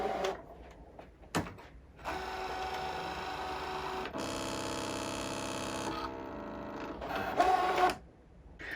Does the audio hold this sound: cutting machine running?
yes